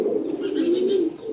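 Silver gorra pigeon perched on a hand gives a soft, close, continuous cooing call, a single drawn-out murmur in a quiet setting.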